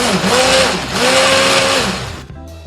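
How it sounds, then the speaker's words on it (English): An immersion blender whirs loudly in a pot, pureeing chicken tinga, its motor pitch rising and dipping twice before it switches off near the end. "Always keep your immersion blender all the way on the bottom."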